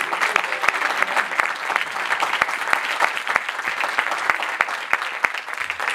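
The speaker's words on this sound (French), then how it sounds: "J'aimerais vraiment que vous l'applaudissiez." Steady applause from an audience at a job forum event, many hands clapping together in a continuous, moderately loud wash for several seconds.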